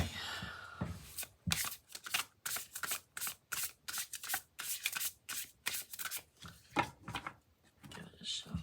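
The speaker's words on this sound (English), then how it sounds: "Give it a shuffle." Oracle cards being shuffled by hand during a tarot-style reading: a rapid run of crisp papery riffles and slaps, close and fairly loud, repeating in quick bursts for several seconds with no talking.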